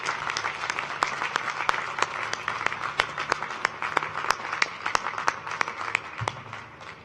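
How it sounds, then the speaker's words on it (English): Applause rings out at a university undergraduate commencement in thanks to a speaker, a steady crowd clapping with sharp individual claps standing out throughout, tapering slightly near the end. "Please give Dr. Holmes another round of applause to thank her."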